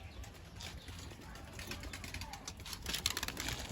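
Young pigeons in a loft shuffle and coo faintly, with soft wing flutters and scratchy movement under a steady background hiss.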